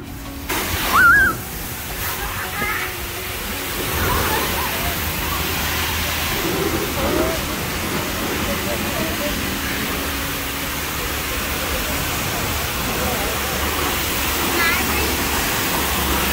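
A wash station spraying water on its wash setting, producing a steady loud rushing hiss that continues unbroken for the whole stretch, with a brief voice near the start.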